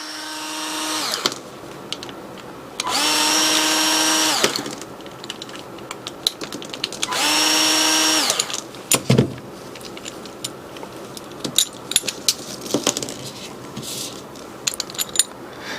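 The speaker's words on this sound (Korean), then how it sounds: "임팩 전용 비트를 사용을 하도록 하겠습니다. 자, 먼저 말씀드렸죠. 볼트 4개 중에서 3개를 먼저 풀으시면 되겠습니다" Impact driver fitted with an impact bit loosening bolts on a metal band heater for a sprinkler head, giving two sustained bursts of whirring, hammering rattle with quieter clicks and knocks between them, close and loud.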